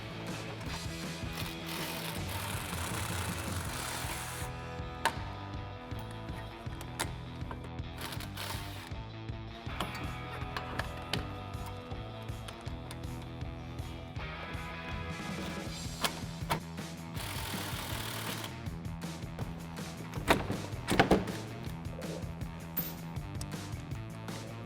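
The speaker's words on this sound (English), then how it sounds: "I'm gonna use an 18mm socket with a swivel socket to remove these 2 bolts" An 18mm socket on a swivel ratchets out caliper bolts on a 2012-2020 Dodge Challenger during a brake rotor and caliper job, giving repeated close metallic clicks and clanks over about 25 seconds without talk.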